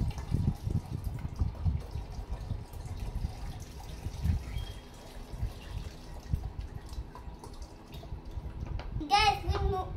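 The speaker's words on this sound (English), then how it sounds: "I'm going to put the water inside and fill it up." Water trickles and splashes as it is poured into a plastic bottle for a tornado-in-a-bottle experiment, soft gurgles running under a child's chatter, followed by a brief squeaky rise near the end.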